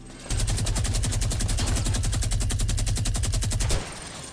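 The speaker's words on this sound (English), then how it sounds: "Number 9. Minigun." Minigun in the Fortnite video game firing one continuous rapid burst of evenly spaced shots for about three and a half seconds, loud and close, then stopping abruptly.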